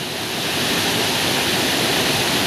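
Strong, steady rushing mountain water roars continuously and loudly, like a nearby torrent or falls, with no voices, at a water power plant in Sorsogon.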